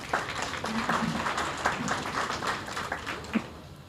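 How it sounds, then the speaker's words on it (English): Applause from a school gathering greeting first-time attendees, a steady wash of clapping at moderate level with a few sharper claps standing out and some voices mixed in. "Give them a round of applause."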